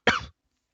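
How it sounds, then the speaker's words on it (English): One short, sharp adult cough, close and fairly loud, with silence after it. "start off nice and early with a cough"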